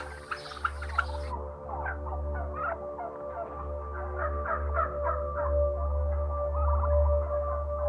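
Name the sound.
turkeys gobbling on a poultry farm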